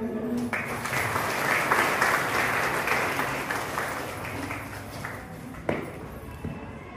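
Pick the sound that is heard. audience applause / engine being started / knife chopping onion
audience applause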